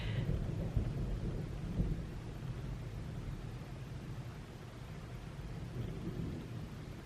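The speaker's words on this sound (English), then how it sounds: "It's so crazy that it's thunderstorming right now." Thunder rolls low and steady from a thunderstorm, a long continuous rumble with a slightly stronger swell near the start, accompanied by a soft hiss of rain and no voices.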